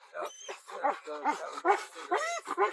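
A police dog at a roadside arrest barks and yelps in quick, loud, close bursts, one after another without pause.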